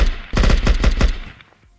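A rapid burst of about six automatic gunshots rings out close and loud from a gun in the Unturned video game's Vietnam mod, then stops with a short fading tail.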